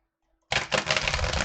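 Tarot cards riffle shuffled on a desk, a sudden burst of dense flapping clicks after a moment of silence, then a sustained close, loud rippling rattle.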